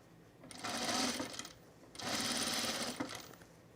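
A sewing machine stitches a boho tunic in two steady runs of about a second each, separated by a brief pause, close and moderately quiet.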